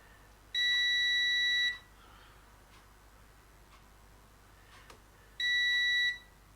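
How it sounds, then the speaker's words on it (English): Two steady electronic beeps from a multimeter on continuity test, each lasting about a second, separated by a quiet gap with faint clicks, fairly close and alone without talk. "That's showing continuity"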